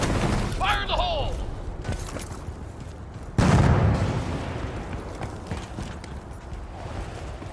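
A grenade goes off in the video game Battlefield Bad Company 2: a sudden loud booming blast cuts in midway through a busy stretch of battlefield noise and game voices, then rumbles away under continuing combat sounds.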